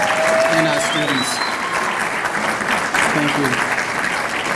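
A symposium audience claps for a student speaker and the students, steady crowd applause filling the room with a few voices calling out over it.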